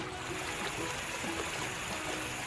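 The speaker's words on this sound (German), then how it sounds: "Wasserstrahlen, um die obere Schicht von Staub und Dreck zu entfernen." Cartoon car wash water jets spray steadily onto a truck, a continuous hissing, splashing rush of water with no pauses, close and fairly loud.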